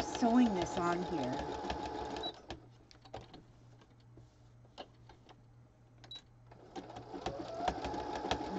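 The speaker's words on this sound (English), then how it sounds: "I'm just sewing this on here." Sewing machine stitching a fabric piece, a rapid mechanical chatter in bursts at the start and end, with quieter handling clicks in between and a person talking over it.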